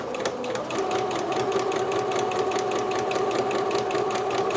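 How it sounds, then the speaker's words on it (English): A sewing machine stitches over a basting line on a Simplicity 8448 sew-along garment, a loud, close, continuous hum with a fast, even stitching pulse throughout. "you're just going to stitch right on top of that, back stitch a little, and then follow the line"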